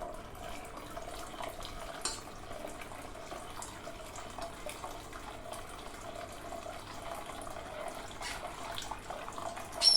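Hot liquid poured into a pot while being stirred at the same time, giving a steady, fairly quiet stream of running liquid throughout with a slight swell at the end.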